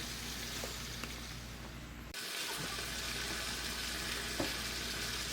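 Chicken pieces frying in oil for Afghani chicken handi, a steady loud sizzle that fills the whole stretch with small pops, and a brief dip partway through as the pan is moved.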